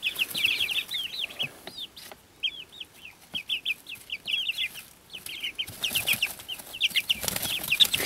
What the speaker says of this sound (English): Little birds, look at them go.